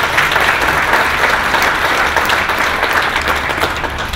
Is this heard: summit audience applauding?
yes